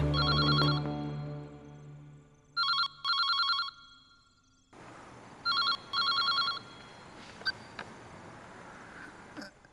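A telephone rings with loud electronic trilling bursts in pairs, fading to quieter background noise with a few clicks afterward.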